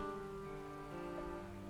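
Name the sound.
thunderstorm rain in Paris, from the video game Gibbous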